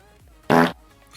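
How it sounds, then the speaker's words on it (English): Fart sound effect from a Minecraft mod, one short loud blast against faint background game and stream sounds. "Then we have Fart, which is quite a good one."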